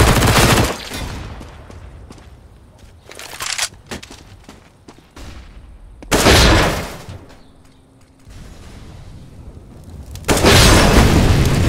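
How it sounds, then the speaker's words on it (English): Grenade blasts and gunfire in a competitive Counter-Strike: Global Offensive match, with loud broadband bursts at intervals and quieter shots and clatter between them, with no voices. "Grenade out!"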